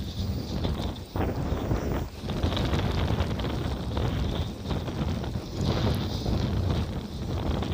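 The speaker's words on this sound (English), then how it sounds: "we are riding into the wind now." Steady, loud wind buffeting across the microphone while riding an Aventon Soltera 2.5 e-bike into a headwind, roaring continuously with brief gusty dips and no voices.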